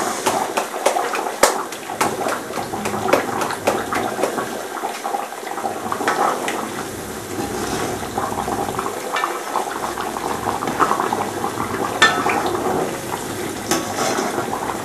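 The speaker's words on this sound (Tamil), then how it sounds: "எண்ணெய் நல்லா சூடா இருக்கும் போது நம்ம போட்டதுனால நல்லா இந்த மாதிரி ஃப்ரை ஆகுது" Rice flour curd roti fries in plenty of hot oil, a loud, dense, continuous bubbling hiss with small clinks from the pan, heard close up with no talking.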